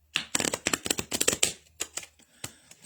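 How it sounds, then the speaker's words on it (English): Playing cards riffled and shuffled in quick bursts of crisp, fluttering clicks, close up, then a few slower, softer taps as the deck settles. "to shuffle the cards. And I shuffle them a good time."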